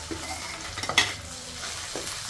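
Ginger paste added to frying chicken gravy, with a steady sizzle and a quick stir and scrape of a spoon in the pan. It is close, continuous and without talk.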